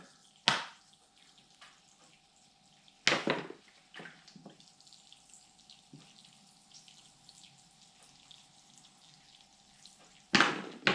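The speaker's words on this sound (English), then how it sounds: "We'll give that a water" Water pours onto a freshly repotted bonsai tree in three short, loud splashing bursts with quiet dripping and trickling between them.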